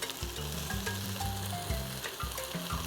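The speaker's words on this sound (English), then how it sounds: "We're going to give it a little stir." Smoked herring stew with pimento and thyme is stirred in a pot, giving a steady close sizzle with soft scraping strokes throughout, no voices.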